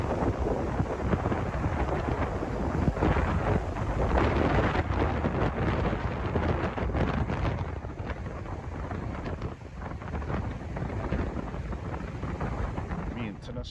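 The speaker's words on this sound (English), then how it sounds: "Oh, she's bloody windy" Strong wind buffets the microphone in a steady, loud roar throughout, with low rumbling gusts and no clear pauses, on the shallows of Manukau Harbour.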